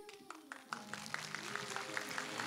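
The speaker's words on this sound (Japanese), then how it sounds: "盛大な拍手でお迎えください" An audience claps in welcome as the guests take the stage at a Japanese film premiere, a faint, steady patter of applause with a voice talking over it.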